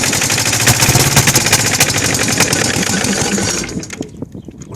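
A Kohler KD425-2 diesel engine that is hard to start and losing fuel chugs and sputters loudly and close by in rapid uneven pulses, then falters and dies away near the end, leaving scattered faint knocks.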